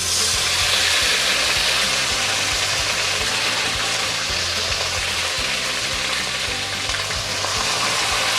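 Mutton goes into a pot of hot oil with cumin, cardamom, cinnamon and cloves, setting off a loud, steady sizzle with stirring, a low hum running underneath.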